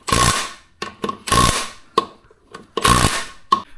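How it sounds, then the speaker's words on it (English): Wrench work on bolts of a Terache beadlock ATV wheel during mounting: repeated harsh, buzzing bursts of mechanical noise, near and loud, with short knocks between them. "So we're just kind of tapping them to make sure that they all have a pretty similar torque on them."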